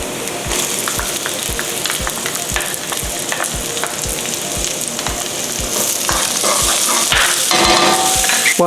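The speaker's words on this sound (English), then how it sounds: "Once our wok is hot, add in some oil. Then to start sauteing the garlic and the onion." Garlic and onion sauteing in oil in a hot wok, making a loud, steady close sizzle with regular clacks of a utensil against the wok, without talk.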